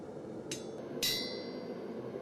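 Forging an animal head in steel: two sharp, ringing hammer strikes on an anvil about half a second apart, close and clear over a low steady shop hum.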